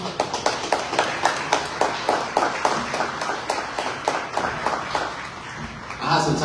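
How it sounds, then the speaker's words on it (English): Audience applause for a youth mental health panel, made of many fairly distinct, rhythmic claps over a low crowd bed and continuing steadily before it swells slightly at the end. "You guys give our panel a great round of applause"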